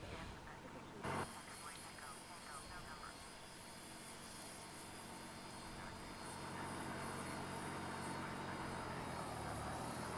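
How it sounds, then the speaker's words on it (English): A Q400 turboprop engine spins up in a flight simulator with a steady whine and hum that builds slowly in loudness, following a brief click, while people talk faintly underneath. "Start engine 1 now"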